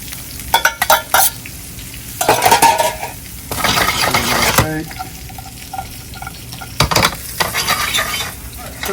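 Black bean and corn salad heats in a pan, giving a sizzle punctuated by loud bursts of stirring and scraping with a utensil against the metal, plus clinks; between bursts the frying hiss continues quietly.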